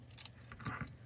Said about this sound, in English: I need to go ahead and cut a little bit of wire here